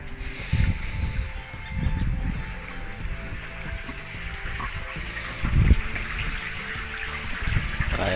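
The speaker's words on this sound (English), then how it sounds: "so you got fresh water coming in there" Fresh water flows into a wide riverbed, a gentle trickling and gurgling stream heard up close, with intermittent low rumbles and splashy surges rising and fading.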